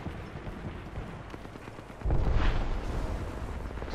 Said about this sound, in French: il y a de la bombe à dispersion dans l'air